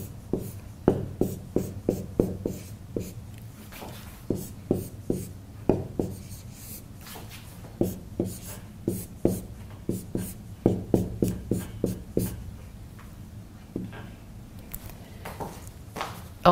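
Marker or chalk strokes writing Chinese characters on a board, a steady series of short scratchy taps and squeaks in quick clusters with brief pauses, close and moderately loud, no talking.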